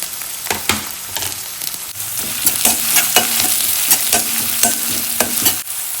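Onions and green chillies tossed into a pan of frying garlic, sizzling steadily throughout with repeated stirring scrapes and clinks of a spoon against the pan, close and fairly loud with no talk.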